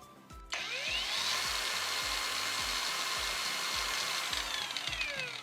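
Cordless 800 W angle grinder switches on and runs steadily at its lowest speed setting, a loud continuous whine with a repeating rhythmic rattle underneath, no voices.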